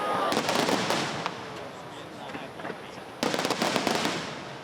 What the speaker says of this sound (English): the city is holding a 5-minute rehearsal of the fireworks